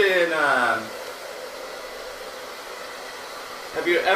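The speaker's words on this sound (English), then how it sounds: "See, I turned the blow dryer down." A hair dryer blows steadily in a salon during a haircut, a close, continuous whooshing hiss, with a person talking briefly over it at the start and end.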